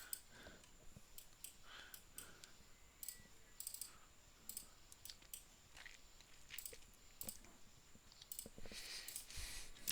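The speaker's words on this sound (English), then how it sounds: "Oh, you're typing." Rapid keyboard typing during a tabletop Dungeons & Dragons game session, steady clicky keystrokes in irregular bursts at close range, fairly quiet, with brief louder clacks and no talking over it.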